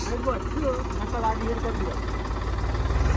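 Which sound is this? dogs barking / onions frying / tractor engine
tractor engine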